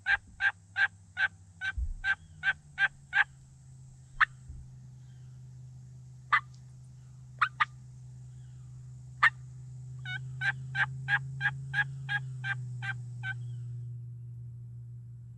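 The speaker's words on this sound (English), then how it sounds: "There's been 4 or 5 gobblers hanging right here." Wild Osceola turkeys gobble in the woods. Two rapid rattling series of calls bracket scattered single clucks and gobbles over a low, steady background hum.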